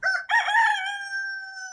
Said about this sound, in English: demons flee at the crowing of the rooster.